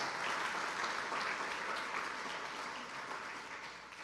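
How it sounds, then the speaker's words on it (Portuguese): Steady congregational applause at a church sermon, a dense wash of many hands clapping that holds fairly loud throughout and eases slightly toward the end. "vamos aplaudi-lo de coração"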